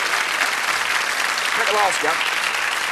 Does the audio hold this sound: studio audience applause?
yes